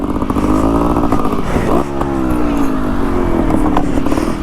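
Beta trials dirt bike running close and loud at a demo day motopark, its small engine revving and dropping in quick bursts with clattery mechanical rhythm throughout.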